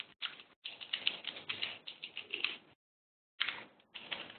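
Rapid keystrokes on a computer keyboard while entering Java test code, a quick run of close clicking taps that stops for a short pause, then resumes in a brief second burst.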